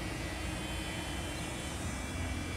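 A DJI Flip drone hovers in the air, its propellers giving a steady, dense whirring buzz that stays constant and close throughout without a break.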